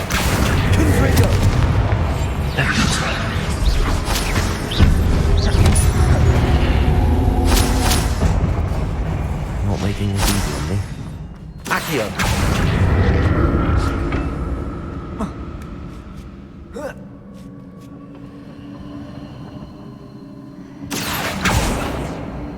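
Confringo fire spells in Hogwarts Legacy on PS5 land as a run of loud, heavy booming blasts with deep rumbling tails, one after another with brief gaps, with a voice over the game sound.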